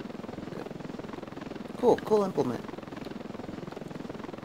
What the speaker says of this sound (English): We're going to helicopter, let's go check around.